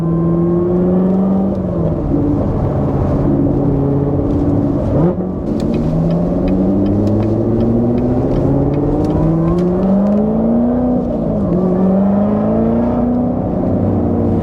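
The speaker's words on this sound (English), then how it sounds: "you don't get any supercharger whine stock. You can hear it now because I upgraded the lid" A Chevrolet C7 Corvette Z06 engine runs loud and steady, its pitch rising and falling as it revs, with whine from an upgraded supercharger lid riding over the engine note.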